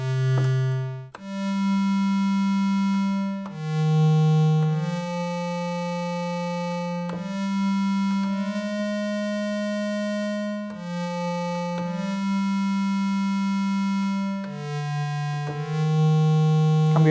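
A melody on a Wavo synthesizer with a delay effect: bright, buzzy sustained notes step between a few pitches, each held for a second or more, with audible echoes trailing the note changes and no voices.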